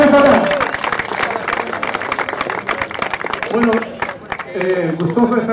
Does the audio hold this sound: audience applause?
yes